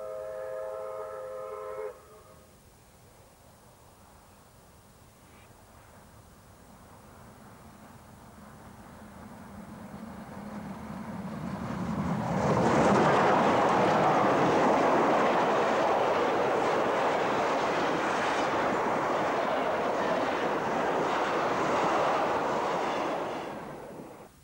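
Two steam locomotives racing on an Australian line in central Victoria between Ararat and Beaufort: a brief whistle, then a quiet lull before the rumbling, chuffing roar swells loud and holds as the engines pass.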